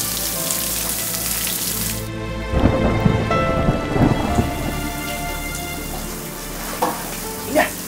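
Heavy rain pours steadily in a continuous hiss, with rolls of thunder rumbling through the middle and a couple of sharper cracks near the end; no one speaks.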